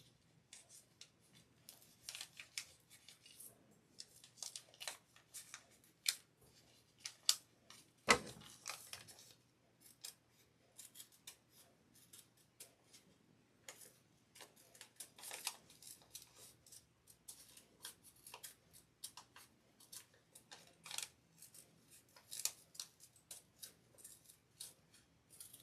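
Scissors snip through paper to cut out a large tree shape for a festive gingerbread girl candle topper craft, a long run of quiet, quick, irregular crisp snips with no talking.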